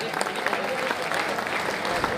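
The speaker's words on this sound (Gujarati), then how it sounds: "બ્રહ્મ દેવતાઓને જોરથી તાળીઓથી વધાવો" Audience applause at a Gujarati community gathering in London, honouring Brahmin priests: a dense, steady clatter of many hands that lasts throughout, with a voice over it.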